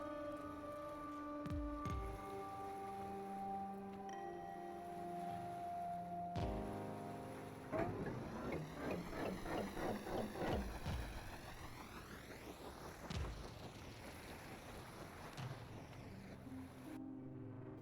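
A small custom-built engine idling and revving on a boat in Stormworks, with a steady drone that wavers and swells mid-way with pulsing, shifting tones, then settles back, continuous throughout with no talking.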